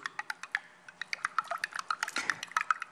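A metal spoon stirs salt into water in a container, with rapid clinking strikes against the sides and soft liquid swishing in an irregular rhythm, close and alone.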